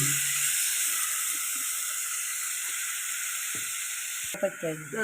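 Onion frying with browned garlic in a pan makes a steady, bright hiss and sizzle throughout, with faint low knocks and a brief clatter near the end.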